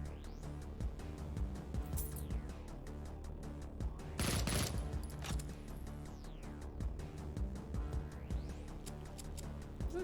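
Rapid SMG gunfire in the first-person shooter Project Warlock, sustained bursts with a louder volley near the middle, dense with game music and effects throughout.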